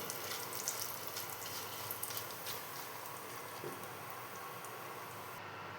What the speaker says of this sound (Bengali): এটাকে লাল করে ভেজে তুলে নেব।